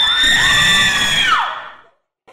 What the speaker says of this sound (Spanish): el grito de Irene a la una